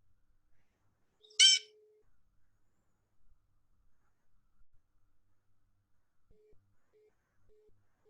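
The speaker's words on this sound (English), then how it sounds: "I would say that is definitely an adult male blue jay" A recorded adult male blue jay call played back, a single short harsh burst standing out against near silence, with faint background hum afterward.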